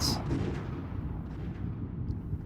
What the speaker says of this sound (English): The sudden sound of a gunshot shook me out of my half-asleep trance.